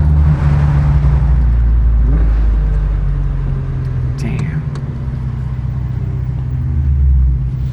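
A stock four-cylinder engine of a 1989 Alfa Romeo Spider Graduate rumbles steadily at idle with a brief rev midway, while a voice speaks quietly over it.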